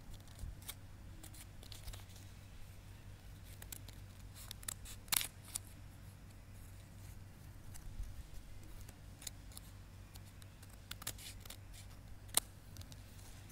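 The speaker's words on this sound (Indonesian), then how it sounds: "terusnya bagian yang atasnya ini kita gunting biar menyamak biar sama dengan ukuran kardusnya" Scissors snipping cardboard while trimming a handmade keychain piece, faint scattered clicks and short cuts spread through a quiet, low-level background with a steady hum.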